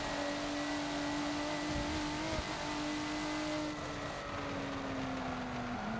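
Steady engine drone of a race car in the Forza racing game on the Maple Valley track, with a tonal tire squeal rising faintly over the engine as the tires begin to break loose through a corner.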